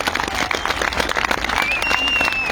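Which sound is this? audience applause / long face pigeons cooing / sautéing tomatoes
audience applause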